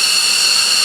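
Military fighter jet engine roaring loud and close during takeoff at an air show, a continuous, steady, broad hissing blast with no talk over it.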